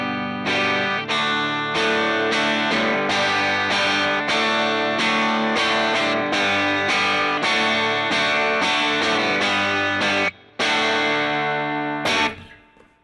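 Overdriven chords strummed on a Glarry Tele-style electric guitar through a Blues Junior amp, loud and dense with steady rhythmic hits, a brief cut near the end, then a final ringing chord fading out.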